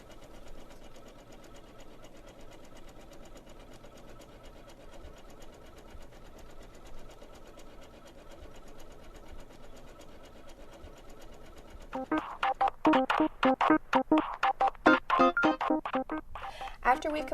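Janome sewing machine stitching ribbon along a drawn line with a decorative stitch: a steady low motor hum that breaks into a loud, rapid rhythmic needle chatter for the last few seconds, close up.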